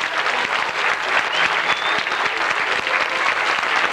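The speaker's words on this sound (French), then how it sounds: "J'aimerais qu'on les applaudisse." Audience at a first dance show applauds steadily and loudly, a dense wash of clapping that holds evenly for the whole stretch with no voices standing out.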